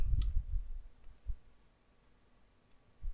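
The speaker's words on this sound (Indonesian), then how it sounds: "kita copy kembali kita melakukan Ctrl C atau copy lalu Ctrl V" Sharp keyboard key clicks on a computer while working in Blender, a few isolated taps spaced irregularly, close and fairly quiet with soft low thumps.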